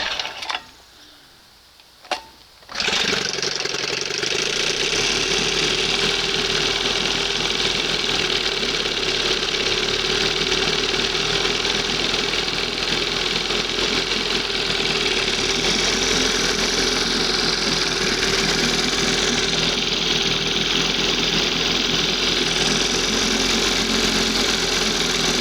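Old 20 hp Johnson outboard motor, cold, briefly quiet, then catching with a sharp start and settling into a loud, steady, buzzy idle that runs on evenly and close by.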